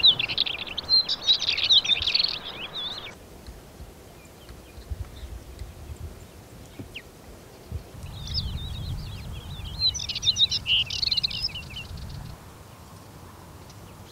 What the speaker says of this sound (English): the countryside and farmland in the different valleys are visited by numerous wintering